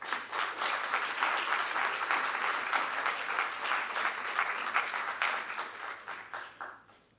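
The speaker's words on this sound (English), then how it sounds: "you can hear the applause" Steady, dense applause from a room of attendees after a scientific talk at a patient community day, holding strong for several seconds before thinning and fading out at the end.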